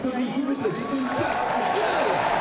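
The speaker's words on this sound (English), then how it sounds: "The crowd, also with the ball out of play, allowed to show their appreciation." Stadium crowd at a Paralympic blind football semi-final between Brazil and Argentina at the Eiffel Tower Stadium in Paris, a steady broad roar of applause and cheering that holds at even loudness throughout, with chatter mixed in.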